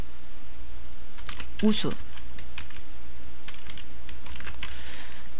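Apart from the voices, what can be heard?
typing a formula on a computer keyboard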